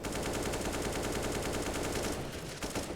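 Rapid pistol gunfire crackles in a Counter-Strike match on the Inferno map during a pistol round, a dense, continuous burst of shots that stays faint and distant throughout.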